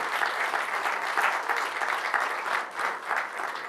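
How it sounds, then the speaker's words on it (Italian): Audience applause at an Italian public talk, steady and dense, swelling and dipping slightly in waves across the whole stretch with no voices over it. "Io direi un, un, primo grazie davvero, anche con un applauso."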